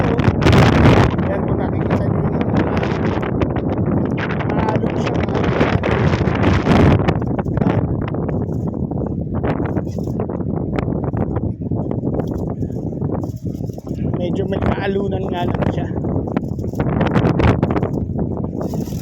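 Strong seaside wind in Libya gusts and roars against the microphone in heavy, uneven bursts, with a voice speaking faintly under the rushing air.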